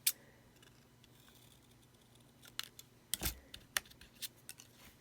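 Scissors snip through a paper card in a few short, crisp cuts clustered in the second half, close and fairly quiet against a low background hum, with no talking.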